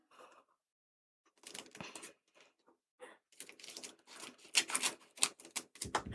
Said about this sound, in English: I'm gonna actually cut these with scissors.